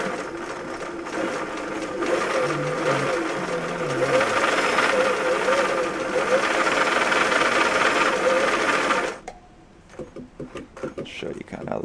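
A vintage sewing machine fitted with replacement nylon gears runs a decorative stitch, whirring and clattering steadily for about nine seconds before stopping, followed by quieter handling clicks and a voice speaking.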